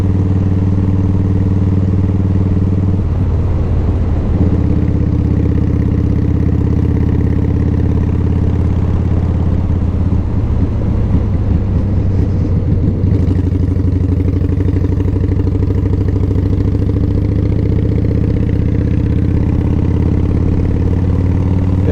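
A motorcycle rides the winding curves of the Alabama Dragon, its engine a loud, continuous close-up drone with brief shifts in pitch and throttle as the rider changes gear.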